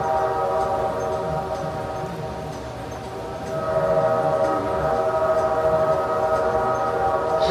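A train rumbles toward a ride vehicle on an indoor attraction track, a steady droning hum with tonal whine that swells louder partway through, heard up close without talk.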